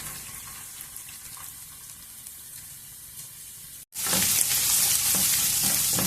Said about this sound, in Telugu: ఈ అల్లం వెల్లుల్లి ముక్కలు కూడా వేసేద్దాము